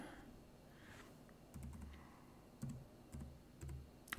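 A code received by email is typed on a computer keyboard, producing a few faint, scattered key clicks in short bursts over a low steady hum.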